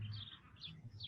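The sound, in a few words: birds chirping outside the window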